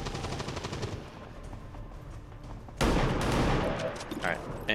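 A pistol shot in XCOM 2 bursts out suddenly and loudly after a quieter stretch of game ambience, a sharp crack with a short burst of follow-up noise.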